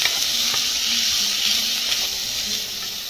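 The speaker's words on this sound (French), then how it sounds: "Donc on les fait poêler comme ça jusqu'à ce que ça puisse cuire." Bacon lardons frying in a pan for pasta carbonara, giving a steady, close hiss and sizzle of fat with a few small pops and no talk.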